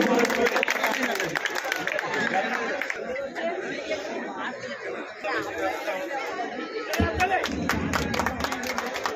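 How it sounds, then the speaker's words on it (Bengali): Crowd applause and clapping at a knockout football tournament event run by the Jugberia Milan Chakra club, a dense steady wash of hands mixed with loud chatter that runs throughout and swells near the end. "সবাই একটু করতালি দিয়ে অভিনন্দন জানাবেন"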